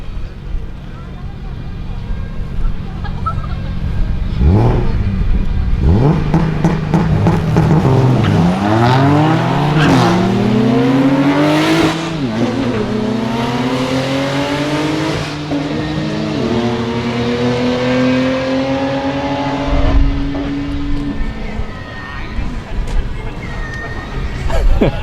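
A BMW 135i with an N54 engine and big turbo running about 18 pounds of boost launches on a track race run, revving loudly and climbing through several gear shifts up close, with crowd babble underneath.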